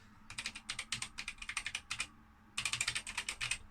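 Keys on a BBC Micro computer keyboard are typed in two quick bursts, crisp close clicks in a fast uneven rhythm with a short pause between, alone in a quiet room.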